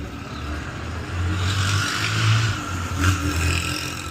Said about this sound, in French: Un taxi-transport de gaz en bouteille.